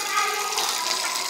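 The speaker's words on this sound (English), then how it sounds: "And heavy boil." Water in a cooking pot churns and rushes at a hard boil, a steady hissing, bubbling wash heard close with no talking over it.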